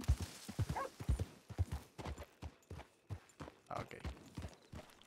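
Horse hooves in the western roleplay game El Rancho RP, a steady, close run of clip-clop steps with a quick uneven rhythm, fairly quiet and heard alone.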